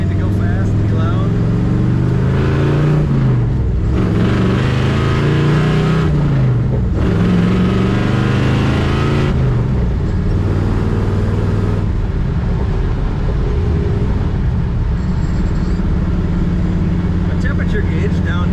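A 1968 Chevrolet Camaro with a four-speed manual runs loud and close, its engine holding a deep steady rumble with a few swells in revs, while someone talks over it throughout.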